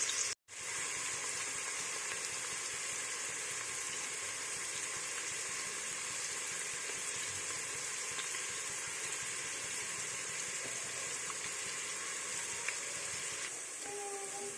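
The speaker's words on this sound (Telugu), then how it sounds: "ఇప్పుడు ఆయిల్ కాగింది. ఇప్పుడు అన్నీ వేసుకుందాం. చూడండి, ఆనియన్స్ వేసుకుందాం." Onions hit hot oil in a pan for Hyderabad chicken dum biryani, setting off a steady, even sizzle that continues throughout after a brief gap at the start.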